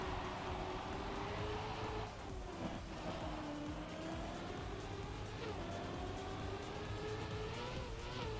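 Race cars in a racing video game roar through a continuous engine drone with shifting pitch as they accelerate and corner, a brief tire squeal partway through, loud and steady without any talk.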